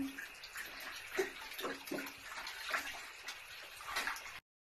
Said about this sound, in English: figured out how to turn on the taps in the bath